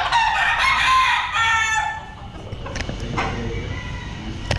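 A rooster crowing loudly and close by, one long drawn-out cock-a-doodle-doo followed by softer clucking and faint outdoor background noise.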